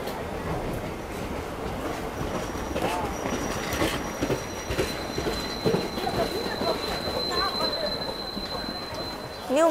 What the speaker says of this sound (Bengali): আমাদের ট্রেন কাঞ্চনকন্যা এক্সপ্রেস ছেড়ে চলে যাচ্ছে নিউ আলিপুর দুয়ার।